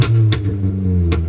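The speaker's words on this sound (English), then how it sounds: "this is how the car sounds like without anything on it right now" A Toyota Camry running with no muffler, resonator or catalytic converter gives a loud, close, steady low exhaust drone with strong harmonics, broken by a few sharp bursts.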